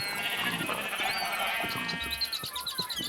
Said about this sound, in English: So we'll breed up 1 pair of sheep to get us some brown here.